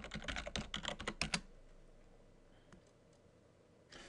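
Keystrokes on a computer keyboard while logging into a Check Point gateway web interface with an admin username and password, a quick burst of close clicks for about a second and a half, then near silence with a brief tap near the end.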